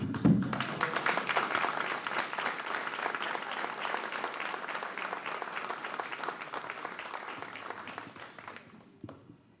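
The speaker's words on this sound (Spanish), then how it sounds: "ahora nos aplaudimos a todos" An audience at a technical panel day on willow trees claps together, a full burst of close applause that holds steady for several seconds, then thins and fades out near the end.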